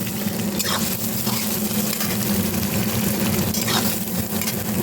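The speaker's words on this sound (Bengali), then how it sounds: "এটাকে আমি একটুখানি ভেজে নেব।" Onions, green chillies and chopped tomatoes fry in a pan with black cumin, giving a steady, dense sizzle that runs unbroken throughout at close range, with faint stirring scrapes on top.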